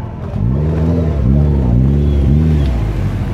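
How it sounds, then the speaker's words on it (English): A nitrous convertible Ford Mustang at a drag strip revs its engine close by, several rising and falling rev sweeps over a low rumbling idle. "We got Gary in the convertible, the nitrous convertible Mustang."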